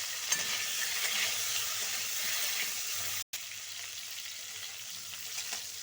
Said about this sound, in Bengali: প্রথমে আমি ফুলকপিকে ভেজে নিচ্ছি।